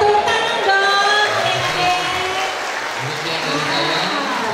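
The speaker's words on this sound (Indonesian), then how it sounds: "Cakep, tepuk tangan dong" Applause from an audience at the opening ceremony of a national selection for internships in Japan, a dense steady clapping wash that fills the whole span, loud and close, with voices mixed in underneath.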